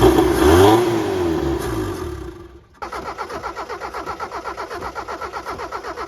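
A Mitsubishi-made Dodge Ram 50 left sitting for over a decade: a loud whirring sweep fades out, then after a brief gap the starter cranks the engine in a steady, fast rhythmic churn without catching, close and alone.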